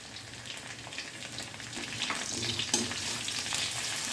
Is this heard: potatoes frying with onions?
yes